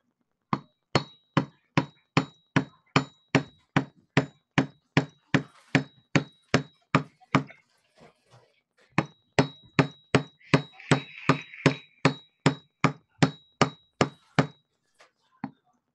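Steady, evenly spaced hammer blows ring out while a vape coil is being built, around thirty sharp metallic strikes with a short pause midway. The strikes are close and clear, with a faint voice briefly in between.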